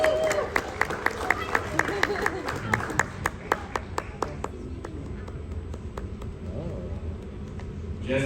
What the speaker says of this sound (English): we are going to cheer him on